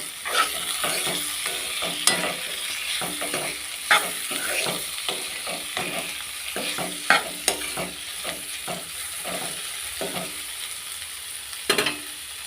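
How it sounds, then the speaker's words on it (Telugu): Tomato pieces fry in a pan for carrot curry while a spoon stirs them, giving a soft steady sizzle broken by repeated scraping strokes and a few sharper clinks against the metal. "టమాటా ముక్కలు అయితే వేసుకుందాం వేసుకొని ఇలాగ కలుపుకోవాలి"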